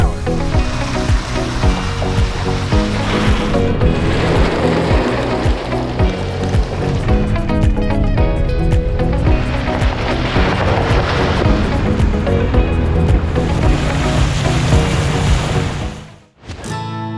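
A Toyota truck fitted with a snorkel ploughing through a high-water crossing on a night trail, a loud, continuous rushing and splashing roar of water against the vehicle that cuts off abruptly near the end.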